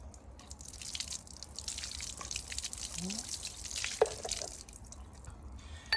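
Water drips and splashes faintly as hair is wetted during a hair dye removal with effervescent aspirin, close, soft and intermittent against a quiet room.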